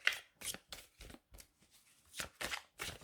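Tarot cards are shuffled by hand for a love reading, a close run of quick papery riffles and slaps in an uneven rhythm, with no voice over them.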